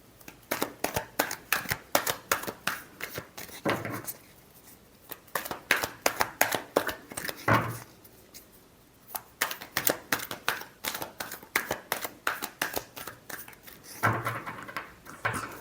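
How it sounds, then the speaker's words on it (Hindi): Tarot cards get shuffled by hand close up, in quick bursts of riffling and slapping, each run lasting a few seconds before a short pause. "Last shuffle."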